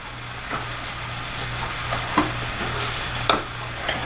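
Scrambled eggs being folded and stirred in a pan, Gordon Ramsay style: a soft, steady sizzle under a low hum, with a few light spatula scrapes and taps spaced through it.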